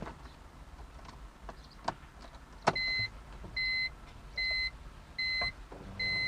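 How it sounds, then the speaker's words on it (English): A fuel pump priming in a BMW E46, heard from close by the pump as a faint, steady electrical whir and hum, with a few sharp clicks and several evenly spaced tones near the end. "I can hear that the fuel pump's running"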